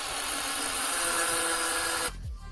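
A power tool cuts through screws on a 3D-printed skateboard, a steady loud whining grind for about two seconds that abruptly stops and winds down.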